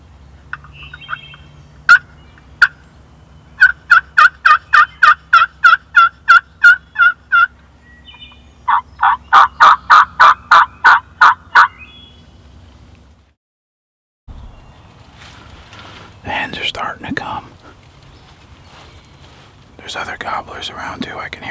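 Wild turkey gobbler calling in the woods, bursts of rapid rattling gobbles repeated several times at a moderate distance, then a pause and soft whispering voices with rustling.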